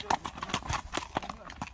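A horse named Lezba trotting, hooves clip-clopping in quick irregular knocks, close and clear, while people talk over the sound.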